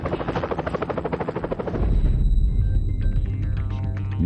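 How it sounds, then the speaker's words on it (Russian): A Mi-26 heavy helicopter's rotor beats in a rapid, steady thumping pulse, then gives way to a loud, broad engine roar with a whining turbine tone. "Ми-26 – тяжелый многоцелевой вертолет."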